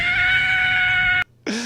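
A long, piercing, sustained scream from a prank in a livestream, loud and steady, then a sudden cut to near silence before a short, lower cry starts again.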